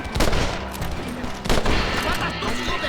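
Gunfire in the Red Dead Redemption video game, with a burst of several sharp shots, a brief lull, then another cluster of loud cracks in a busy battle scene.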